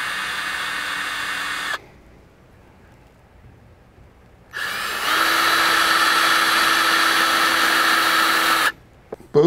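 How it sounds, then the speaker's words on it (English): A power drill with a 3/8 or 1/4 inch bit bores holes in a push pole, giving two loud, steady whining runs, a short one and then a longer one of about four seconds, separated by a quiet pause. "These holes can just be drilled randomly, and do 6 or 8 of them"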